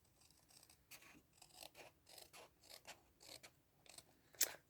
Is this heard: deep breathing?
no